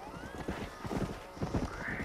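Horses in the Red Dead Redemption video game, hooves clip-clopping in a quick rhythmic trot close by, with a horse's neigh rising over them.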